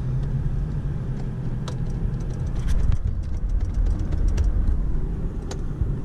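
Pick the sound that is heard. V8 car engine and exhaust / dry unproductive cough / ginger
V8 car engine and exhaust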